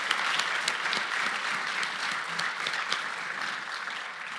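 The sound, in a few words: audience applause for conference panelists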